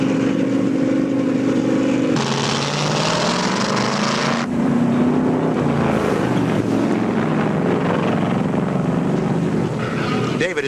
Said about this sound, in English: David Pearson screams into the pits with a flat right rear tire